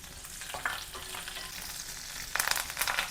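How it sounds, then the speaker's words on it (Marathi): Cumin seeds, fenugreek seeds and chili pieces crackle and sizzle in hot oil for a raw tomato chutney, a steady close fry with a brighter burst of spatter near the end; no one speaks. "जिरे मिरच्यांचे तुकडे केले होते ते टाकते"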